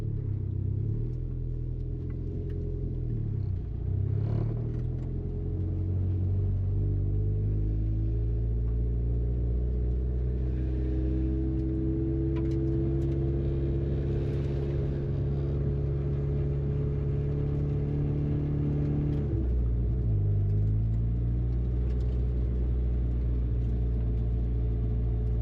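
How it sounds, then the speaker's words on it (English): A turbocharged Mazda Miata engine with an exhaust leak idles and runs steadily, a loud continuous low rumble with slight rises and dips in pitch, alone without talk. "we have an exhaust leak"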